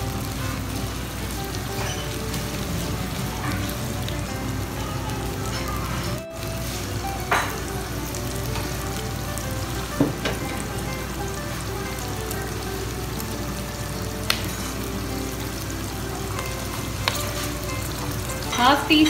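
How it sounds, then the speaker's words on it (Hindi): Onions and vegetables sauté in a pan for Dragon Chicken, a steady close sizzle and fry with occasional scrapes of stirring throughout, no talking. "अब हम डालेंगे ये अनियंस, इसको हम वेजिटेबल्स को"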